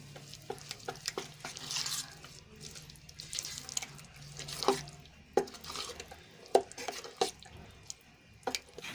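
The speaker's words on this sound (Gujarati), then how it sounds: "હવે બધું સરસ રીતે મિક્સ કરી લેશું" Dhokla batter seasoned with salt, turmeric and coriander-cumin powder is stirred in a bowl, giving wet, squelchy slaps and scrapes in irregular strokes, close and moderately quiet.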